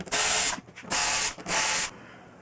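A power driver backs out windshield screws on a vehicle: three loud, close bursts of whirring, each about half a second long, with short quiet gaps between them.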